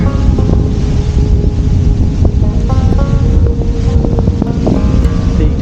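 Wind gusts steadily past the microphone beside the Detroit River, a loud continuous roar with trees tossing near the water and no speech.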